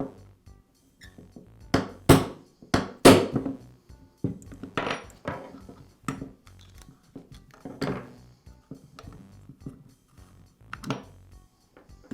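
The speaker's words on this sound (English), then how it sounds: "The second pin, I'll use a hammer and punch to remove." Sharp metallic taps of a hammer striking a punch to drive a pin out of a Makita reciprocating saw during repair, a dozen or so close, irregular hits with short pauses between.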